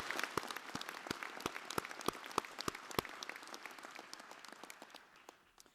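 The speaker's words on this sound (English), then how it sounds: "Can we give Neeraj another round of applause?" An audience applauds at a university graduation ceremony in Manawatū: steady, fairly quiet clapping from many hands in a large room, with distinct individual claps at first blending into a continuous patter.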